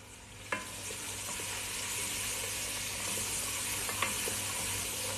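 Garlic frying in a pan for mansaf, a steady close sizzle with a couple of soft clicks from stirring, and no voices.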